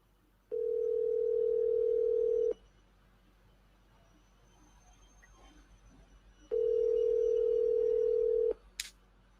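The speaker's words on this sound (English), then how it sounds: "You're going to dial, they're going to pick up." A telephone call ringing out: two long, steady ringback tones, each about two seconds, separated by a quiet gap of roughly four seconds, clear and alone with no talking.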